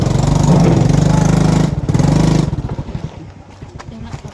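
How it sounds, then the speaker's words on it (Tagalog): A motorcycle engine labors loudly on a rough, bad road in Mindanao, droning steadily then sputtering and pulsing unevenly as it strains, with people talking nearby. "Kaya kayo ng motor?"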